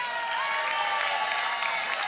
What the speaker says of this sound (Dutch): Geef hem eens een groot applaus.